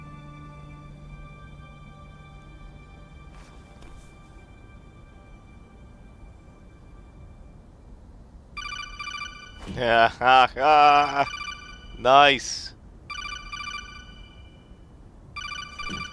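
A phone rings in Metal Gear Solid, a few electronic ring bursts in quick clusters after a quiet stretch, with a brief spoken remark nearby.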